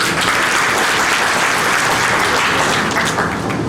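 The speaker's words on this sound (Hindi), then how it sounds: "ताली एक बार और बज गई" An audience breaks into dense, steady applause at the end of a talk on career opportunities in Ayurveda, a loud, continuous wash of many hands clapping together with no voices over it.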